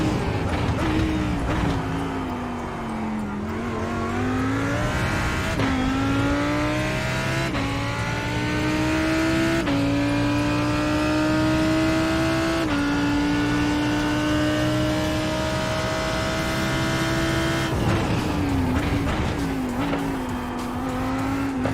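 Race cars in iRacing roar at close range for over twenty seconds, engines climbing through gears with repeated downshifts under braking, with tire squeal and no talking.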